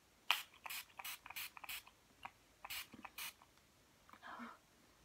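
A series of quick, hissing spray bursts from a makeup setting spray pump bottle, close and fairly soft, in an uneven rhythm with short pauses.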